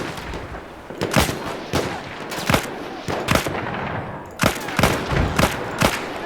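Gunfire in the video game Battlefield 1: a series of sharp, loud shots in irregular bursts, some single and some in quick pairs, over a steady hiss of background battle noise.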